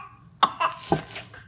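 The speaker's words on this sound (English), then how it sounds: "You eat it and then you cough." A child coughs in a home kitchen while eating during preparation of tefteli rice meatballs, three short dry coughs in quick succession, close and fairly quiet, then a softer throat sound.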